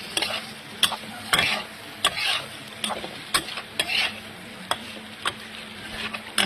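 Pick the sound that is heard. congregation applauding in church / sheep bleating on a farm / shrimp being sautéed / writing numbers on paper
shrimp being sautéed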